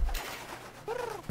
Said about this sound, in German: jetzt fliegt ja die kleine Taube los